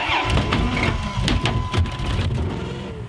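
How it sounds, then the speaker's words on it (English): A plow truck engine labors close by as it drives through fresh snow on a long homestead driveway, a dense rumbling drone mixed with scraping and crunching, with no talk. "I found this plow truck on the side of the road, and it works great"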